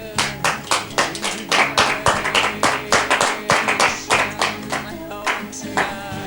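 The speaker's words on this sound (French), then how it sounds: "Cathy, Oui, tu veux des applaudissements?" Rhythmic clapping from a group, steady beats keeping time, with music playing underneath.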